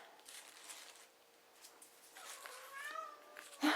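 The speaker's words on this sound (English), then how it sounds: "go and let my cat out" A house cat meows near the end, a few short, thin calls rising out of a quiet kitchen room tone, with faint background noise throughout.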